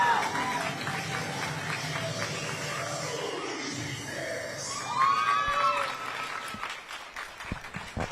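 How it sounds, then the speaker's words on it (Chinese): A crowd cheers and applauds a cheerleading team's performance at a national cheerleading championship in a gymnasium, a broad roar of voices with music underneath and a commentator talking over it. "这一组的表演获得了满堂喝彩啊"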